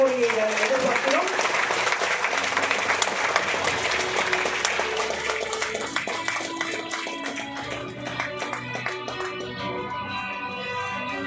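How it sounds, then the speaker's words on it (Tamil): Loud, sustained applause from an audience at a ceremony honouring fifty years of service, dense clapping that stays strong throughout while an amplified voice talks over it. "இன்னும் ஒரு முறை உங்களுடைய பலத்த கரவொலியை நாம் எதிர்பார்க்கிறோம்."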